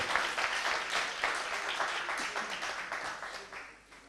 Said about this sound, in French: applaudissez pour vous-même, les jeunes, applaudissez pour vous-même